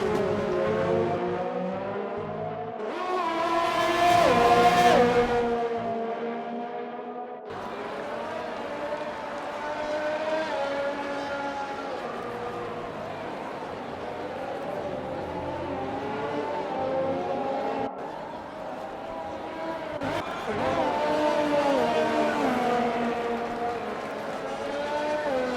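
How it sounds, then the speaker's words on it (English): Two McLaren Formula 1 cars from a racing video game at the Circuit de Catalunya, their engines howling close together in a continuous layered whine that rises and falls with shifts and a brief peak near the middle. "The two McLarens running very close on track"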